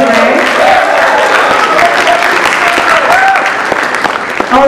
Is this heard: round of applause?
yes